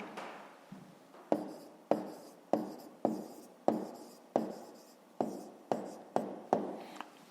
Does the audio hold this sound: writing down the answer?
yes